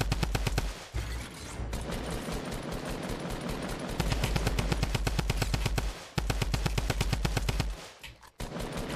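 Assault rifle gunfire in Fortnite Season 4 rattles in long, rapid automatic bursts that run nearly continuously at close, loud range, broken by a couple of brief pauses.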